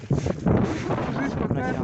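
Wind blowing on an uninhabited island in minus-forty-degree cold, roaring and buffeting the microphone in loud, rumbling gusts while people talk nearby.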